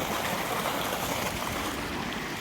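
Water flows steadily out of a submerged pipe, a continuous rushing, bubbling wash that stays loud and unbroken with no talk.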